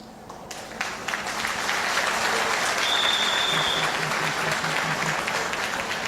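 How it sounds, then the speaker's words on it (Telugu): An audience at a Forest Department boot camp class in Warangal breaks into loud applause, which swells within the first second and then holds as steady, dense clapping. "నిద్ర వచ్చేవాళ్ళు గట్టిగా చప్పట్లు కొడదామా?"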